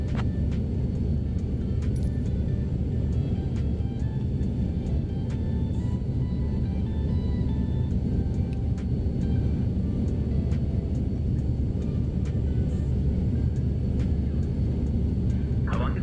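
Avanti P.180 turboprop taxiing in Microsoft Flight Simulator 2024, a steady, dense low engine rumble and drone running continuously and evenly throughout, close and unchanging with no voices over it.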